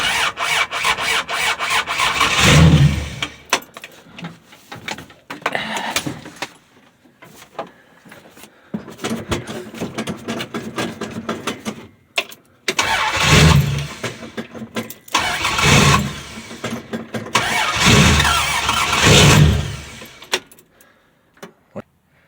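1965 Dodge Dart with a Slant Six engine cranking on a cold start, loud and close, with repeated bursts of starter grinding and sputtering catches separated by quiet gaps, no talk.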